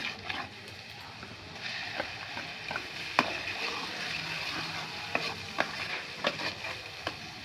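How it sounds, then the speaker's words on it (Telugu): Turmeric-laced ground paste frying in oil in a home kitchen pan, a steady close sizzle with scattered sharp clicks of a spoon stirring and scraping throughout. "ఇగో ఇప్పుడు ఇది మంచిగా ఫ్రై అయింది"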